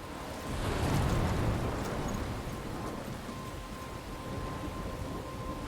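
A roaring game storm from Life is Strange: heavy rain and wind rumble steadily, with a dull surge of thunder early on that settles into a constant wash. No one speaks.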